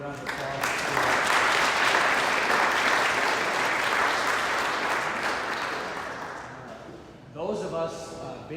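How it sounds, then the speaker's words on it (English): An audience claps in a sustained round of applause for Emily Quinton at an evening community event on local air quality, steady and full for about seven seconds before tapering off as a voice begins speaking. "So if you can give her a round of applause."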